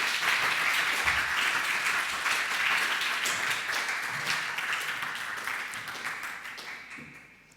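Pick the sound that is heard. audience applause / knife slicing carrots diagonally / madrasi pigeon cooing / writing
audience applause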